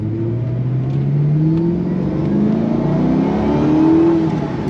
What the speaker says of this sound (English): That V8.